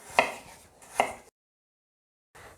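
A knife chops apples for a charlotte cake in two sharp strokes about a second apart on a board, followed by a silent gap and a faint scrape at the end.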